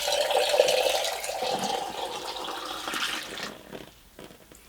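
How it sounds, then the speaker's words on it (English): Water or tea poured from pitcher to pitcher from a height to cool it for brewing loose-leaf tea, a steady splashing pour that stays loud for several seconds before thinning out and fading. "if you just like pour your tea or pour the water,"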